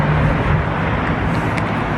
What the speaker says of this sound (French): Il y a beaucoup de voitures.